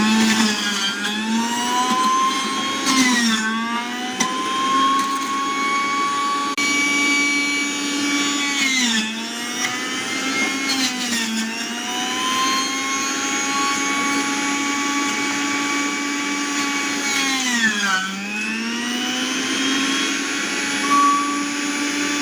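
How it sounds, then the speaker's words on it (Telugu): A mixer grinder whirs loudly and steadily, blending bottle gourd, cucumber, curry leaves and mint into juice, its motor pitch dipping and recovering several times as the load shifts, with no voices. "మిక్సీలో వేస్తున్నాను."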